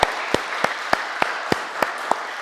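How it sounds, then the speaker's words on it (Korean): A church congregation claps in encouragement during a New Year Sunday worship service, a sparse, steady run of about eight evenly spaced claps over a faint room background. "같이 격려의 박수 치고"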